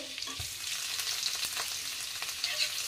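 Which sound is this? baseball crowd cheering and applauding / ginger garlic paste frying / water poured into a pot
ginger garlic paste frying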